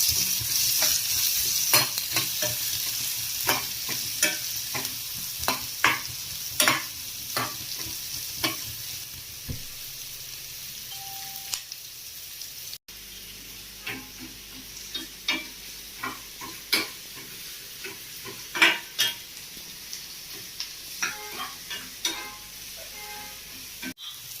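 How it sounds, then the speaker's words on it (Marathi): Chopped onion sizzles in a pan while a spatula stirs it, producing repeated sharp scraping clacks over a steady frying hiss, close and clear, with a brief pause midway. "आपल्याला कांदा मस्त परतवून घ्यायचे"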